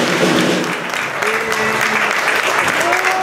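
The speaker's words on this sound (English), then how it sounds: "Can you give him a round of applause for all his help?" A pub audience claps for the volunteer sound engineer at a high school jazz band gig, loud, dense applause that stays constant, with voices and whoops rising over it.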